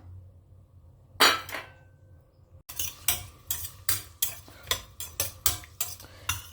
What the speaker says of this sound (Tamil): இது கொஞ்சம் லேசாக செவக்க வறுக்கட்டும்